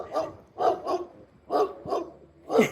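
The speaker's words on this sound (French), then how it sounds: "Il y a un chien par la fenêtre que vous entendez peut-être japper." A dog barks six times in uneven bursts, sharp yappy barks coming from somewhat outside, fairly loud with no talking over them.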